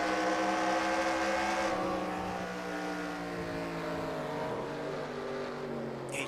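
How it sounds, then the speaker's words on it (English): An onboard race car in a short-track racing video game slows for a corner, its engine drone falling in pitch under braking, then holding a steady buzzing tone through the turn, loud and continuous with no talking. "you hear him on the brake and then wanting to let the car roll through the center"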